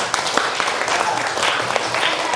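A class of students applauding in a school classroom: steady, close, lively clapping from many hands, running the whole time with no pause.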